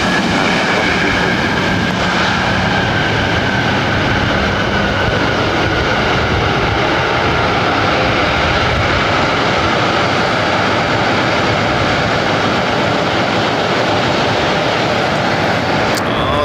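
Jet airliners at LAX airport, a loud, sustained engine roar filling the scene steadily from start to finish, with faint voices in the background.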